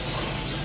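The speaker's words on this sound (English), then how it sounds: "then once you have your parchment paper in there, spray it again, the sides and stuff" Cooking spray hisses steadily from a can onto a cake pan lined with parchment paper, a single close, continuous burst of spray.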